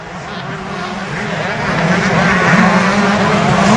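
Husqvarna and Yamaha motocross motorcycles racing at Hastings Valley, a loud, swelling blend of engines roaring together with wavering pitch and growing intensity; no clear speech.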